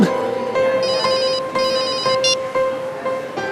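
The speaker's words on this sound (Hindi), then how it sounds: "सर का फोन, बात करोगे?" A telephone rings indoors with a repeating electronic trill in short pulses over a low, steady background hum, sounding close and fairly loud.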